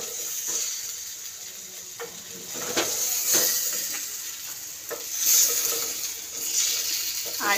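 Olive pickle with garlic, lemon and mustard oil being stirred, giving a steady sizzle with repeated scraping and clinking strokes of a spoon against the pan, close and continuous throughout.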